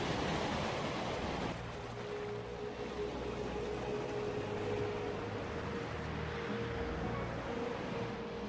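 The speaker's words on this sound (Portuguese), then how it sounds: "As ondas batem forte na areia." Heavy surf pounds a wild, weather-beaten beach on Brazil's southern coast, a loud continuous roar of breaking waves with no voices.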